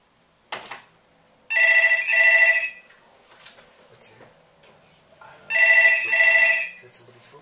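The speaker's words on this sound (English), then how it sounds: "That's the actual phone." A telephone rings close by in two electronic trilling bursts separated by a pause. A soft click and faint knocks come before and between them.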